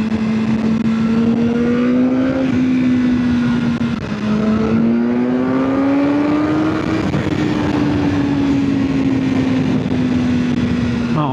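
A 2024 BMW S1000R motorcycle engine revs up loudly and close, its pitch climbing through repeated surges with brief dips between gear changes, while road and wind noise roar steadily under it.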